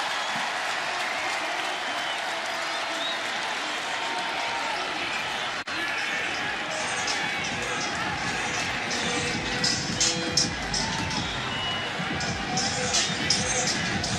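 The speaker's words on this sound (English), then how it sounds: "Offense out on the field, and the crowd applauds." Football stadium crowd at a West Virginia versus Texas Tech game applauding as the offense takes the field on fourth down, a sustained roar of clapping and cheering that swells later, with a commentator speaking over it.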